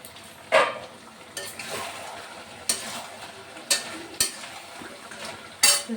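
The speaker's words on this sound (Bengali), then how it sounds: "মাংসটা ভাজা চলছে" Mutton frying in a pan with a soft, continuous sizzle, broken by half a dozen quick scraping and clinking strokes of a spatula or spoon against the metal at irregular intervals.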